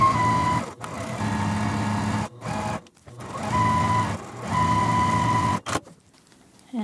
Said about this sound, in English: let's go ahead and take these to our machine and get these sewn up